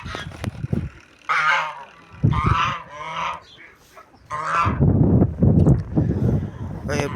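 Geese honking, newly brought birds kept together with turkeys, loud nasal honks in several bursts, some overlapping into a noisy cluster near the end.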